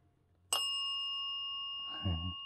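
A small bell struck once, its bright ringing tone hanging and slowly fading for about two seconds, with a faint voice murmuring near the end.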